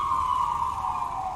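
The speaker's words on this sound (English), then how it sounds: "tone down some of the sirens, a little bit of adjusting here" Police sirens as ambient sound effects during a Cyberpunk Red tabletop game session: one continuous wailing tone that drifts slowly downward, steady and fairly loud, with no talking.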